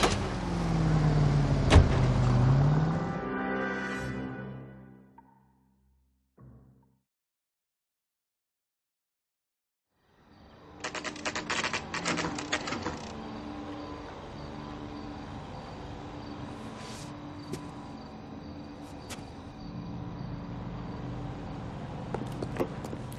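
A car engine in the video game L.A. Noire revs and rumbles loudly for a few seconds, then cuts to silence before a busy, noisy street-like ambience rises again.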